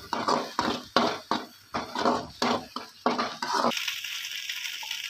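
Kothu parotta with egg is stir-fried in a pan at home, heard as repeated sharp metal scraping and clanking strokes in an irregular rhythm, followed by a steady sizzle once the striking stops.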